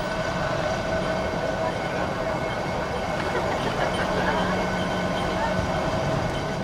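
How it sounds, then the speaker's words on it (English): A scenic funicular railway, the world's steepest incline, descends an escarpment into lush undergrowth in Australia's Great Dividing Range, giving a continuous, even rumble of rolling cars that holds steady throughout. "A scenic railway, the steepest funicular incline in the world, plunges over the escarpment into the lush undergrowth."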